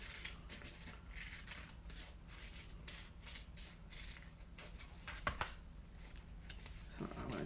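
Scissors snip through a papery-backed Dollar Tree place mat for a no-sew pillow, a run of close, quiet crisp cuts and rustles with someone talking over them.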